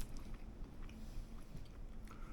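Quiet, close-up chewing of a plant-based sausage, with soft, irregular bites and mashing and no talking.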